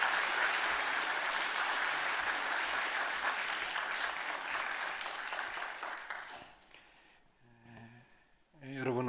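A church congregation applauds to welcome the pastor at a Sunday service, loud sustained clapping from many hands that fades away toward the end, followed by the pastor beginning to speak.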